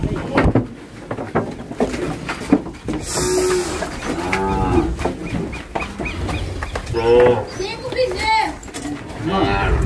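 Nelore cattle lowing repeatedly on a farm during a vaccination roundup, several loud drawn-out moos close by, mixed with people talking and general commotion.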